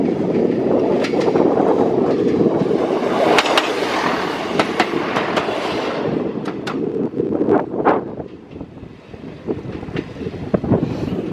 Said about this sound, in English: I like the train. I'm doing the train ride again.